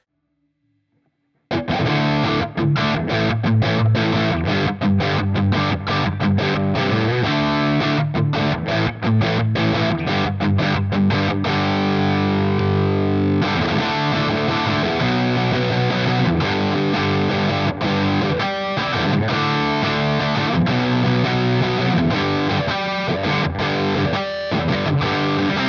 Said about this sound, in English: you have a choice of one of these three drives: fuzz, drive, or distortion